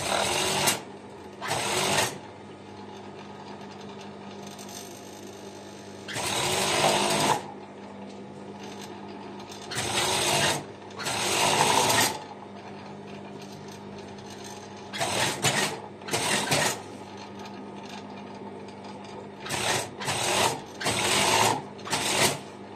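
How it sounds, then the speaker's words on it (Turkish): A sewing machine stitches a skirt's elastic in repeated loud bursts of rapid whirring, a second or two each, separated by quieter pauses, close up and with no talk. "şöyle tutup dikiyoruz."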